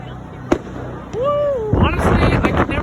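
Fireworks at a high school pep rally show: a sharp pop, then rising whistling tones that break into a dense crackling burst, loud and near, with people talking and reacting around it.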